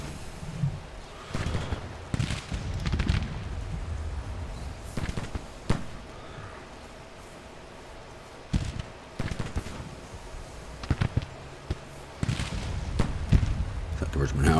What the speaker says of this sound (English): Is that the Richmond howitzers? Yes, it is.